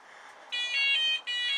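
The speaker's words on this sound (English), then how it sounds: "that's just the alarm telling me it's not been set" A motorbike alarm gives a warning that it has not been set: two loud, sustained high electronic beeps, close by, separated by a short gap, with no talking.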